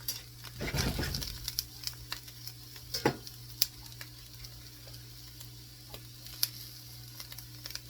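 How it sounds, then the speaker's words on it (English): Eggs for an omelette crackle and sizzle steadily in a hot pan, with a brief burst of stirring and scraping early on and a few soft clicks afterward, close and fairly quiet, with no talking. "I'm just going to stir the eggs a little bit."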